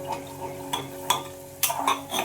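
Soaked peas being stirred with sautéed spices in a pot, a few light scraping clinks of a spoon against metal at an irregular pace, quiet and close, with no talk.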